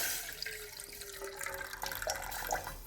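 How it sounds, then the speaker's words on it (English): Grated coconut squeezed by hand in a bowl of water to make coconut milk, giving faint close splashing and trickling with a few soft drips, no talking. "Allow it to soak and squeeze it with my hand to bring out the milk."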